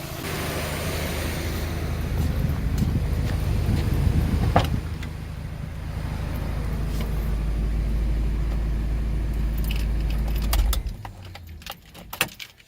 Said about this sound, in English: there's a slight possible knock, and there's a bit of bubbling, but it's still running